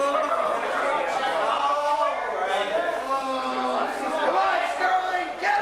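A wrestling crowd shouts at the referee during a match, with many voices yelling and chanting together in a loud, continuous roar that fills the arena.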